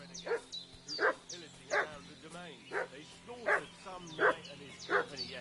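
Dog in the video game Kingdom Come Deliverance 2 barking in a steady series of about eight yelping barks, moderately near, over quiet background ambience.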